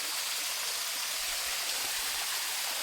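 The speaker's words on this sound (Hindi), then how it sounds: "और ये है झरना बारहमासी।" A perennial spring waterfall inside Bhairavnath cave gives a steady, hissing rush of falling water, even and continuous with no voices over it.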